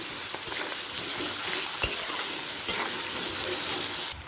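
Thickly chopped onion and garlic go into hot oil for a Bengali pui shaak chorchori, giving a loud, even sizzle with one or two utensil taps before the sound drops off at the end.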